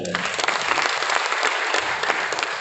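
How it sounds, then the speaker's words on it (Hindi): A burst of steady applause from a seminar audience in Brahmapur, Odisha, many hands clapping together for a few seconds. "ये तालियां बजा दो एक बार"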